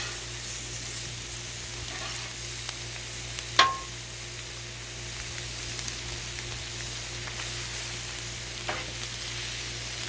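Seafood boil with potatoes, corn and onion frying on a flat griddle, giving a steady low sizzle throughout with one brief louder clink or scrape partway in, no talking.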